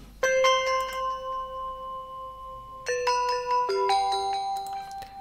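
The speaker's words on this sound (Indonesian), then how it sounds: "nah itu tuh suara gamelan" Metallic gamelan tones ring out clearly, a few struck notes with long shimmering sustain, then a quicker run of bright chimes, close and unaccompanied.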